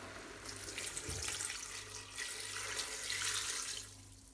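Water pours into a pot of beef broth already holding vegetables, porcini mushrooms, bay leaf, salt and soy, a steady close splashing stream in two long bursts, with no talking.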